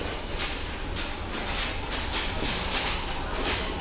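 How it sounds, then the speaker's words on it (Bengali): A train at Kolkata station gives a steady, loud, broadband rumble with a regular clickety-clack pulse repeating about twice a second, and no voices. "তো এই হচ্ছে আমাদের ট্রেন"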